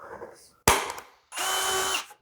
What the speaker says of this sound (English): that's where we're going to drill our hole for our pin.